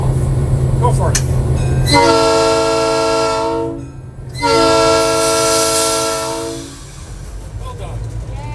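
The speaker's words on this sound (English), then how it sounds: "as part of your duties, you're going to blow the whistle." Locomotive whistle blown from the cab of a train at the PSRM in Campo, two long loud blasts of about two and three seconds separated by a short pause, with talk before and after.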